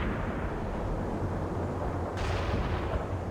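A continuous rumble of distant artillery explosions in the video game World in Conflict, booming and crackling as dense noise, with a slight shift in texture near the end.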